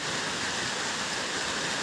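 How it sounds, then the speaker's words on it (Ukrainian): Rain pours down outdoors in a dense, even hiss that stays constant and fairly loud throughout, with no speech over it. "Ну, у нас почався дощ."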